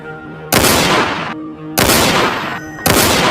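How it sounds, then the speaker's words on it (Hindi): Cartoon gunfire shooting down zombies, delivered as three sudden loud bursts of broadband blasts that each ring out and decay, separated by brief quieter gaps with a faint musical tone underneath. "पीछे की तरफ से बंदूक चलने की आवाज आती है"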